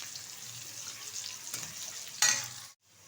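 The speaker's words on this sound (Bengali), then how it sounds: "পেঁয়াজটা হালকাভাবে ভেজে নেব।" Chopped onion fries gently in oil in a pan, a steady soft sizzle with a short stirring scrape near the end before it cuts off.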